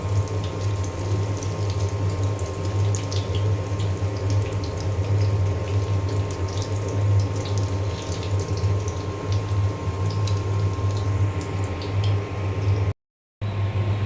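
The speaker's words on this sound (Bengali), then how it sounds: "আর এখানে আমি আলুর চপ ভেজে নিচ্ছি" Potato chops fry in oil with a dense, continuous bubbling hiss that stays loud and even throughout, briefly cutting out near the end.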